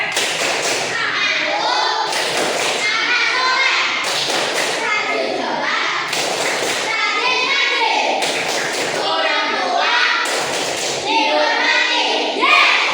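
Children in a classroom doing the tepuk anak soleh rhythmic clapping chant, with repeated bursts of clapping and thumps in a steady pattern under their loud chanting voices.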